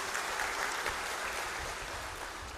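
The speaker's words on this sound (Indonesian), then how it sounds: "Tepuk tangan lebih bantak ini." An audience at a GBKP church event in Batam Centre claps steadily throughout. The applause is a dense, even wash at moderate to faint level with no talking over it.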